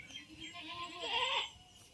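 A goat bleats once in a rural village setting, a single wavering call that swells in the middle and fades, moderately close over a low background of farmyard noise.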